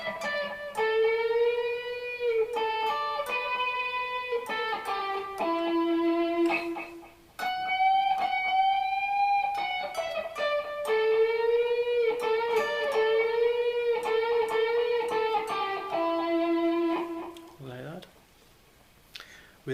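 Electric guitar playing a riff, a run of sustained, bending notes and chord stabs in steady phrases, close and loud, with a brief pause midway and no talking.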